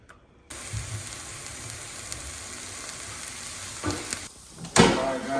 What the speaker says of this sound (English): Things sauteing here.